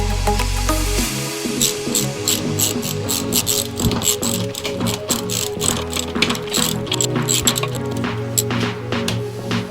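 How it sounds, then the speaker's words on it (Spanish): A power driver sinks a screw into a wooden wall beam to mount a TV bracket, a whirring motor with rapid ratcheting clicks that grinds on steadily at close range for several seconds. "ahí es donde voy a clavar el tornillo"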